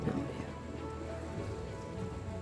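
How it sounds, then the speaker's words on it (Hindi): Steady rain patters across a surface in the Himalayan mountains of Johar Valley, a dense, even hiss of drops with a low rumble underneath, continuous and fairly close. "हाँ, बारिश हो गया।"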